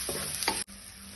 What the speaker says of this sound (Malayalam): അപ്പം മസാലയൊക്കെ ഇട്ട് നമ്മൾ ഒന്ന് വഴറ്റി